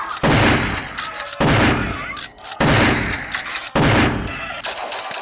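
Video game shotgun fire, four loud close blasts spaced about a second apart, each with a sharp crack and a short ringing tail.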